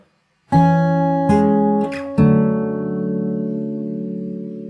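Plucked acoustic guitar notes in a fingerstyle arrangement of a song: three clear attacks, each left ringing, the last chord sustaining and slowly fading, with no talking.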